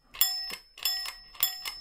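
An old stable bell worked by a bell pull rings three times in a steady rhythm, each a bright double metallic ding, fairly close and ringing alone.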